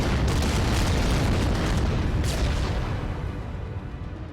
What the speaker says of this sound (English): And a lot of explosions.